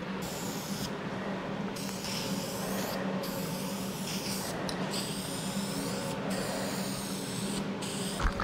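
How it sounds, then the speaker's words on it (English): A spray can of high build primer hisses steadily while spraying a Firebird bumper, its loud continuous rush broken by several short pauses between passes. "it sprays so much smoother, lays on so much smoother"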